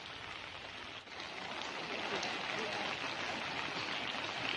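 A rain-swollen stream rushes past outdoors as a broad, continuous wash of flowing water that grows slightly louder after a brief dip.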